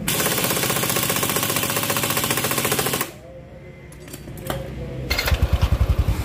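Engine of a Yamaha NMAX scooter idling with a steady, even rapid pulse, loud and close, then a quieter stretch with small clicks before the engine note returns with a throbbing rev.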